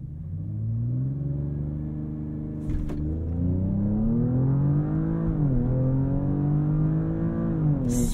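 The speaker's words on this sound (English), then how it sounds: "I just hold my foot hard on the brake while pinning the throttle. It'll build up the revs. Let go of the brake and see how we do." Recorded from inside a 2023 Audi S7 Sport S, the engine revs against the brake, then the car launches and accelerates hard up a slight incline, its rising engine note climbing through gear changes with a brief clatter mid-run.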